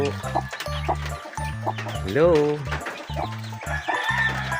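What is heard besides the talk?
hen clucking with chicks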